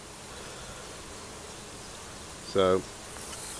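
Honey bees buzz around a bait hive outdoors, making a faint, steady drone under soft background noise. Near the end a brief spoken word cuts in.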